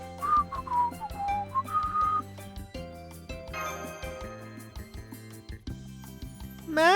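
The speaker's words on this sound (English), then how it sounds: "No, just practice my whistling." A single whistler produces a short melodic tune of sliding, held notes over soft background game music with chimes and tinkling tones.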